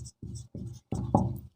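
Chalk or marker strokes on a classroom board come in four short scratchy bursts with brief gaps, close and fairly faint, the last stroke longer and a little louder.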